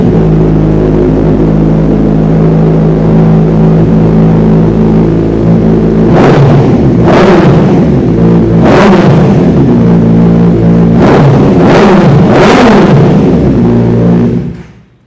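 A superbike motorcycle fires up and idles with a steady rumble, then is revved hard several times in sharp bursts, two single blips followed by a quicker cluster of three, loud and close with no talking.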